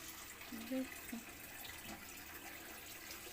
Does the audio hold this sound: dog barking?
no